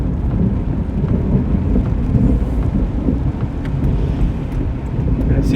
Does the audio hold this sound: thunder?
yes